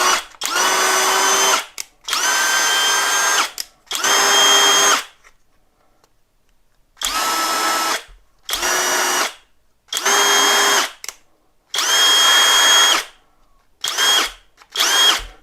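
A LUDYVI BL2000 cordless impact wrench runs freely in eight loud, close whirring bursts of a second or two each, separated by brief silences and ending with two shorter spins.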